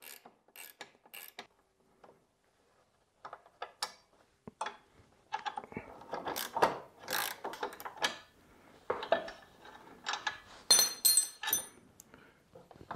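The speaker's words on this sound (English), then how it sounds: "And so that's just a 3/8 ratcheting wrench." A 3/8 ratcheting wrench working bolts loose on a Toro Timemaster mower's front height adjuster: scattered bursts of quick ratchet clicks and metallic clinks, close and crisp, separated by short pauses.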